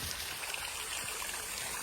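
A stream runs high and swollen after heavy rain, giving off a continuous, fairly close rushing wash of water with no talking over it.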